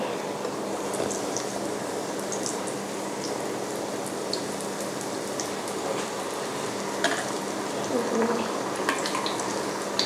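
Banana spring rolls deep frying in hot oil, giving a steady, dense crackling sizzle throughout with a few sharper pops, close and moderately loud with no voices.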